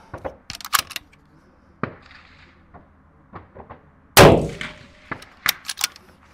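A single sharp gunshot cracks out nearby during a timed target shooting drill, with scattered metallic clanks and knocks before and after it.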